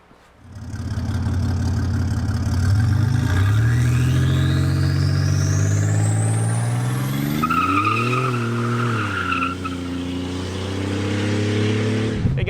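A 1987 Buick Grand National's engine starts up and runs loudly, holding a rough, rumbling idle with a brief rev that rises and falls midway, all close and unaccompanied by talk.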